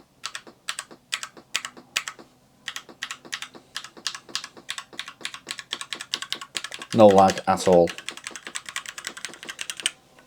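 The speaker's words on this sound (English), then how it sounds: "So that was the mechanical keyboard." Keystrokes rattle quickly and crisply from a mechanical USB keyboard made by Tekos, used with a Spectrum retro computer. Bursts of irregular clicks are typed in real time, and someone briefly talks over them midway.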